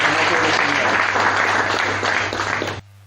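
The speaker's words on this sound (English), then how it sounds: "Clap for Master Jesus" Church audience at a healing testimony service bursts into loud, dense applause that carries on for nearly three seconds before cutting off abruptly into near silence.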